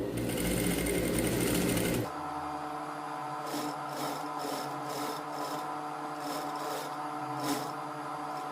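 Close, loud sewing machine running in a steady whirring burst while stitching a tailored women's blazer collar, then stopping, followed by quieter rhythmic handling and fabric sounds.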